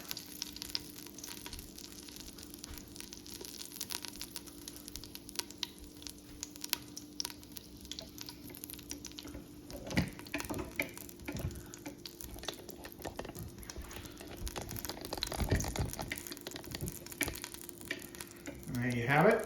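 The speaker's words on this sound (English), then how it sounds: "just give it a little bit of a stir. And wait till the oil's warming up." Bean soup base sizzles and crackles steadily in warming oil as it is stirred in a pot, a continuous close frying hiss with occasional scraping stir sounds and no talk.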